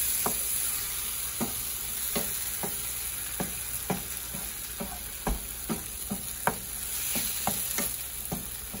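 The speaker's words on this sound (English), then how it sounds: "And then I'll mix this up." Ingredients being stirred in a hot frying pan, a steady sizzle underneath and a dozen or so sharp scraping strokes of the spoon at an uneven rhythm, close and clear with no talking.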